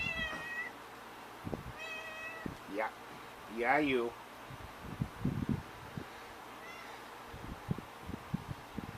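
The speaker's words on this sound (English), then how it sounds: "sorry about that, that's my cat." A house cat meows several times in close, rising and falling calls, with brief speech and handling noises between them indoors.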